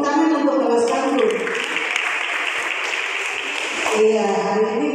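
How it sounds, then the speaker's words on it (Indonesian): A church congregation applauds a youth class during a Sunday school class-transfer service, with a few seconds of broad clapping and cheering between voices at the start and end. "tepuk tangan untuk kelas tangguh"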